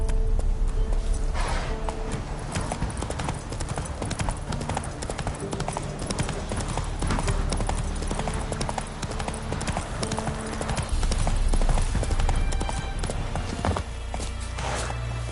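Horse hooves clip-clopping steadily through the open world of The Witcher 3, a continuous walking rhythm over a busy game soundscape of music and ambience, loud and close throughout with no talk.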